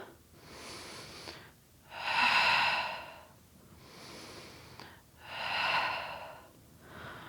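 Deep audible breaths during a Pilates glute exercise, with slow alternating inhales and exhales rising and fading in a steady rhythm, four clear breaths close to the microphone.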